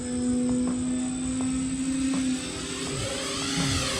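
FMS Pitts RC model biplane taking off, its electric motor giving a steady whine that shifts in pitch as it accelerates and pulls away, fairly close and loud throughout.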